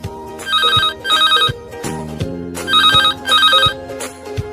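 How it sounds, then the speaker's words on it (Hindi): A mobile phone rings with a trilling electronic ringtone in repeated double bursts, loud and close, over a soft background musical bed. "उसने अपना मोबाइल फोन निकाला और अपने पड़ोसी को कॉल किया। रिंग जा रही थी।"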